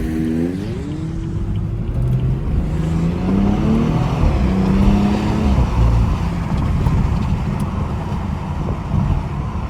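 A BMW 340i with a downpipe accelerates through the gears, its engine note rising and dropping at each shift, followed by a crackle of exhaust pops; loud and close from inside the car.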